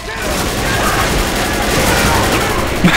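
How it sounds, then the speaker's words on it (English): Rapid gunfire rattles in the zombie shooter Left 4 Dead, a dense, continuous burst of loud shots close by, with voices talking over it. "I'm still shooting him."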